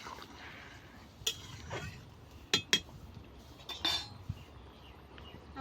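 A spoon stirring lentil and potato curry in a pot over a clay stove, with several sharp metallic clinks and scrapes against the pot over soft background noise, no voices.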